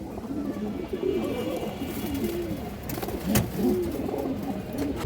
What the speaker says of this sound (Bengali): এই দেখেন চিনি কালদম কবুতর।